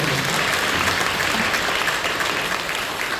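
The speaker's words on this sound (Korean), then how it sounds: "박수로 영광해 주십시오." A church congregation bursts into loud, dense applause during a worship service, a continuous close roar of clapping hands with no pause.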